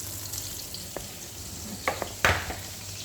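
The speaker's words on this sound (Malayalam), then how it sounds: "ഇതിനകത്തോട്ട് ഇട്ട് കൊടുത്ത് നമുക്കെല്ലാം ഒന്ന് ഫ്രൈ ആക്കി എടുക്കാം" Crab pieces frying in hot oil, a low steady sizzle broken by a few sharper crackles and pops, with one loud burst of spitting near the end; no talking.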